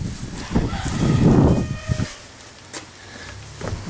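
Young chickens born in May on a farm cluck and call loudly and close by, with a rooster's crow mixed in among overlapping bird noises.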